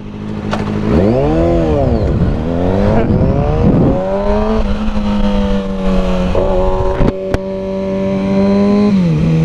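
A Mercedes SL65 AMG twin-turbo V12 accelerates hard in a street race to a white line, its loud close engine note climbing through rising sweeps with brief drops at gear changes, then settling into a steady high drone.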